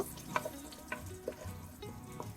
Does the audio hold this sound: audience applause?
no